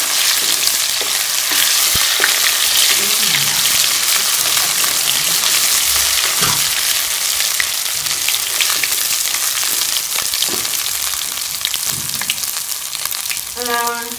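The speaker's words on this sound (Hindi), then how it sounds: "इसके साथ ही ये लहसुन अदरक का पेस्ट भी शामिल कर लेंगे। एक से 2 मिनट जो है वो हम भून लेंगे।" Ginger garlic paste frying in a pan for a matar kofta curry, giving a loud, steady sizzle with occasional scraping stirs throughout.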